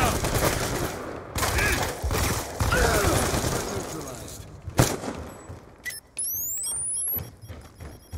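Video-game gunfire against bots with a KSG: loud, dense volleys of shots in repeated bursts, one sharp crack standing out near the middle, then mechanical sliding and whistling effects toward the end.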